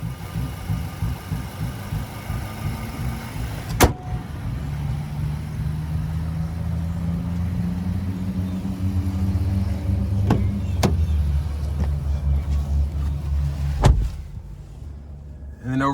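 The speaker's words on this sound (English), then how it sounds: "And there's the Nissan Endurance motor." A 2021 Nissan Titan Pro-4X pickup's 5.6-liter Endurance V8 running at a steady, close, low rumble, with a few clicks and a brief shift in pitch partway through.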